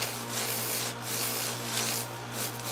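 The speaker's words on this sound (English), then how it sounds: "I just love sanding things, guys" Sanding an art piece by hand, a close, rhythmic rasping of abrasive strokes across the surface with a low steady hum running underneath.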